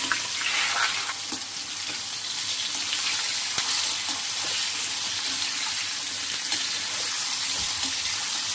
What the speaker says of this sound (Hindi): इसको हल्का सा फ्राई करती हूँ मैं